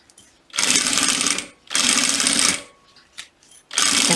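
A sewing machine stitches a safety seam across fabric in three loud, steady runs of about a second each, separated by brief pauses with small clicks.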